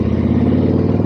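Harley-Davidson Tri Glide Ultra trike engine running while shifting gears, a loud, close, steady low rumble with a throbbing pulse throughout the short stretch, no talking.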